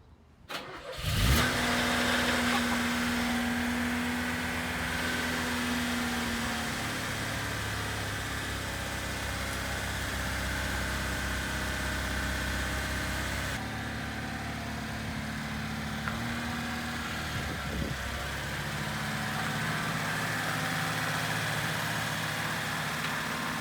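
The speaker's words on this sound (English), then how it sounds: "he gets in the car and to my surprise, the thing starts first crank and sounds great" A Lada 2101 fires up on the first crank after long storage, with a brief starter whir and catch, then settles into a steady, even idle that runs on and on, close and loud with no voices.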